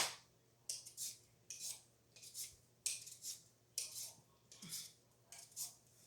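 A knife cuts the bad ends off potatoes in a series of about nine sharp, crisp chops at a steady rhythm, close and clear with quiet gaps between them and no talk.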